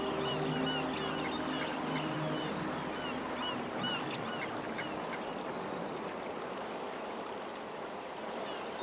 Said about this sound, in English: Here comes an echelon of bar-headed geese.